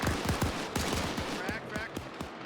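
Rapid bursts of gunfire with heavier blasts in an Arma 3 military battle, sharp shots repeating in quick succession for the whole stretch, loud and close against constant background noise.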